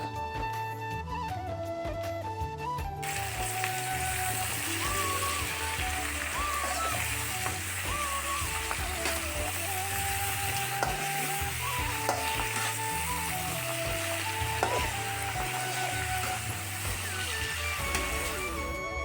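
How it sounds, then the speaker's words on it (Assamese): Duck meat fries in a pan for an Assamese duck curry with ash gourd, giving a continuous loud sizzle with scraping and clattering as the pieces are stirred around, and a voice is faintly audible under it. "হাঁহ মাংস যিমান ভাজিম খাই সিমানেই সোৱাদ লাগে"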